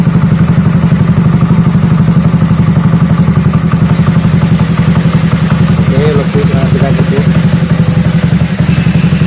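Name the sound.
Honda C70 motorcycle engine running with Juken 5 ECU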